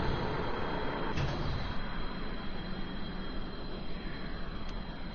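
Airplane engine in the Kerbal Space Program video game, a steady broadband drone that holds at an even level without pause, with no talk over it.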